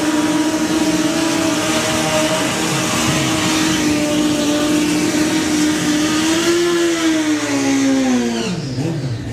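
Drag racing cars doing burnouts at a national finals meeting, a loud sustained engine roar with rising and falling revs, steady and close, fading slightly at the end.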